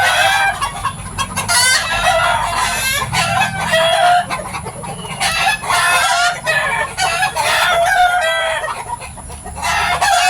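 Several roosters crow over and over amid steady clucking from a flock of chickens, loud and continuous throughout with no talking.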